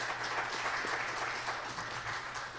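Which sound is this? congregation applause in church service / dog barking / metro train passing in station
congregation applause in church service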